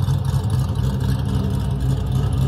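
A C6 Corvette V8 with an aftermarket camshaft rumbles close by in a loud, steady, choppy low growl that holds at an even level throughout.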